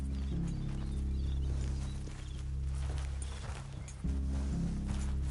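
Horses' hooves clip-clop in Red Dead Redemption 2, a steady walking rhythm at moderate distance under a low droning ambience, without talk over it.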